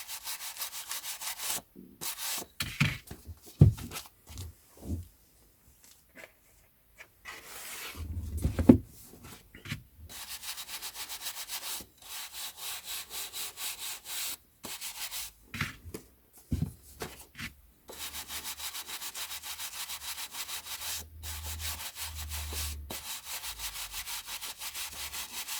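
Dry rubbing and brushing strokes as vintage Penguin paperback books are dusted, in intermittent bursts with brief pauses and soft handling knocks, close and fairly quiet, with no talking.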